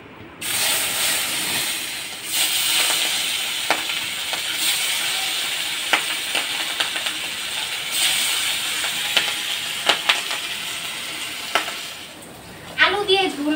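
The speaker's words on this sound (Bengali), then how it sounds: "নুন হলুদ দিয়ে ভালো করে মেখে তারপর ভেজে নেব" Pomfret fish rubbed with salt and turmeric sizzles and hisses steadily in hot oil, a continuous close frying noise with occasional crackles and pops, ending with a brief clatter.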